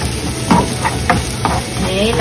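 Ginger sautéing in a pan while lapu-lapu is being cooked gives a loud continuous sizzle, with a few sharp stirring scrapes and clinks at regular intervals.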